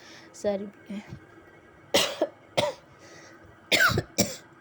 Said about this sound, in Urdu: تو یہاں پہ آ گئی تھی مجھے کھانسی